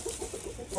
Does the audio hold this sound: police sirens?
no